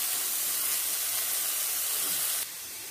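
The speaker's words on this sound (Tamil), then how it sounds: "இப்போ சால்ட்டு போட்டு பாவக்காயோட நிறம் சேஞ்ச் ஆகிற வரைக்கும் நம்ம அதை அப்படியே நல்லா வதக்கிக்கிட்டே இருக்கலாம்" Bitter gourd sautéing with salt in a hot pan, a steady broadband sizzle and hiss held throughout, dropping slightly in level near the end, with no talking.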